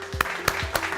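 Clapping at a digital IMC Lakshya 2021 event as the audience stands to honour Dr. Ashok Bhatia: three sharp, evenly spaced claps sound close and crisp over a faint background hum.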